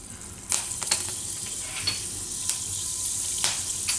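Fenugreek seeds crackling in hot oil over a low flame, with a steady, bright sizzle and a few sharper pops, close and without any voices.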